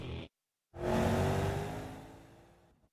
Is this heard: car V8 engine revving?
yes